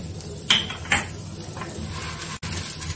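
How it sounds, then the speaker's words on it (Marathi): Whole spices tipped into a pan of roasting coconut for a squid masala, giving two sharp metallic clinks of utensil on pan over a low steady background hum, with no talking. "आता घेतलेला मी खडा मसाला टाकते।"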